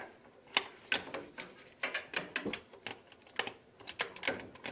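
A wrench works a bolt on the 4WD actuator by the front differential of a 2017 Chevrolet Colorado ZR2, giving quick bursts of close, sharp metallic clicks and ratcheting in an uneven rhythm.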